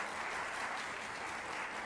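Audience applause at a youth democracy forum, a steady wash of many hands clapping filling the short stretch, fairly faint and even throughout.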